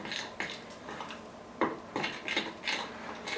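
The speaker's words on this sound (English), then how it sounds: "And then you just want to mix this until you kind of get a nice dough" Peanut butter dough is stirred in a bowl with powdered sugar, producing a series of close, light scraping and clinking strokes of a utensil against the bowl in an uneven rhythm.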